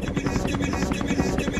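A helicopter in a Skibidi Toilet animation gives a steady rapid rotor chop with a dense whirring roar, loud and close, lasting a brief moment.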